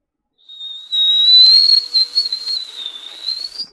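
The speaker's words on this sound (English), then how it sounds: "You hear a strong whistling as the tea kettle in the kitchen begins to heat up" A tea kettle whistles alone, a steady, piercing high tone that starts softly, swells loud and shrill, and wavers slightly for a few seconds.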